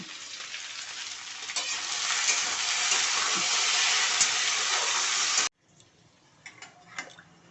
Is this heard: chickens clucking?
no